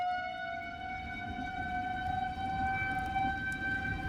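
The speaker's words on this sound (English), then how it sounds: "the sirens in Minden would start up, just 10 minutes before the tornado would hit" A steady, wailing tornado siren in Minden, Iowa holds a sustained tone across the whole stretch, sounding from a distance over low rumbling background noise.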